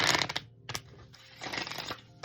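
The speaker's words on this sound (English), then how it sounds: "that was a good nice shuffle" Quick bursts of tarot cards being shuffled, crisp riffling rustles in several short clusters separated by brief pauses, close and fairly quiet.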